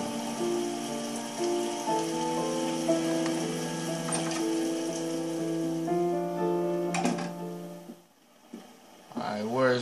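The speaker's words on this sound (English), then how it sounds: "God, it is raining." Heavy rain falls steadily in the video game I'm a Detective, a continuous patter running beneath music-like tones before a brief dip near the end.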